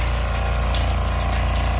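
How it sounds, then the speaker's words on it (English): A water pump in a converted camper van runs close and steady, a loud continuous mechanical hum with a rapid rhythmic pulsing and liquid gurgle underneath, alone without voices. "which controls the water pump. When I turn the pump on, these will also turn on."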